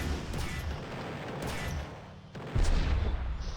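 A mortar fires in a video game with heavy, booming thumps, two or three deep blasts rolling into one another over a dense, rumbling battle ambience.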